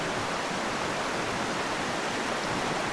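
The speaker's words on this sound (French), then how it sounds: "Là, on est en train de traverser une petite rivière." A small river rushes under a wooden footbridge in a snowy Canadian forest, a steady broadband wash of flowing water that stays even and close throughout.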